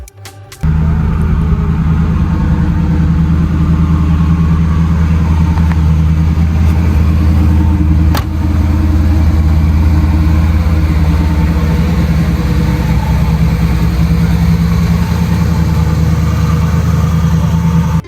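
A 1973 Pontiac Firebird Trans Am with the Super Duty 455 V8 idles in a Need for Speed game, a loud, steady low rumble that holds even throughout after a short start.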